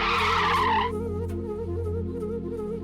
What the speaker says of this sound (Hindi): अचानक गाड़ी क्यों रोक दी?